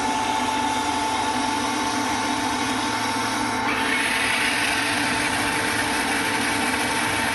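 A water softener control valve motor runs steadily through its regeneration cycles, a continuous low mechanical hum and whir with a steady tone, close by and alone, shifting slightly in texture midway.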